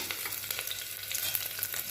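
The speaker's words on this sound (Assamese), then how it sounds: "অকল জিৰা কেইটামান তেলত দি দিছোঁ, গোন্ধটো ভাল আহে কাৰণে" Cumin seeds crackling in hot oil for a simple khichdi, a brief close sizzle with quick pops over a steady frying hiss.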